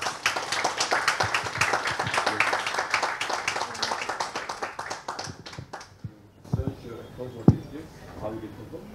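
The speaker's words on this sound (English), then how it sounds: "loud applause for this girl" Audience applause at a book launch for The Bhais of Bengaluru, a dense run of many hands clapping for about six seconds that fades out, followed by a speaker starting to talk.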